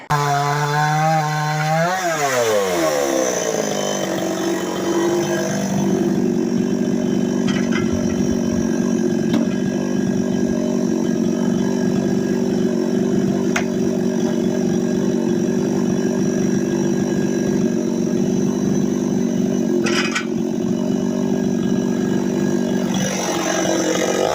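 A chainsaw cuts firewood logs into quarters, loud and close. The engine revs up at the start, then holds a steady, continuous cutting roar with brief changes in pitch and no voices.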